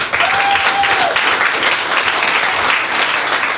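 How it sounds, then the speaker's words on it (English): A crowd at a stand-up comedy club claps steadily and evenly throughout, loud and close, with no talk over it. "Get those girls a round of applause, guys."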